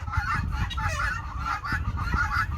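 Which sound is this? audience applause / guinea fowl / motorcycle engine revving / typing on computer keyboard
guinea fowl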